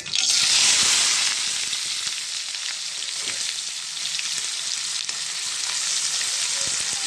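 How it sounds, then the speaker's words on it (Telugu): Chopped onions and green chillies go into four or five spoons of very hot oil and fry with a loud, steady crackling hiss. The sizzle is strongest at the start, then settles into a constant sputter with occasional stirring, and no voices are heard. "నూనె మరిగిపోయింది ఒక నాలుగైదు స్పూన్లు వేసానండి నూనె దీంట్లో ఉల్లిపాయలు పచ్చిమిర్చి వేసేద్దాం"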